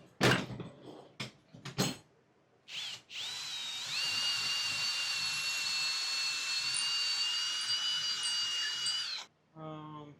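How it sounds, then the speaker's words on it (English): A power drill whines steadily for several seconds after a few short knocks and bumps, close and loud, then stops briefly and spins up again, drilling mounting holes for a DIY racing simulator rig. "set it on top of here and drill my holes to hard mount it here"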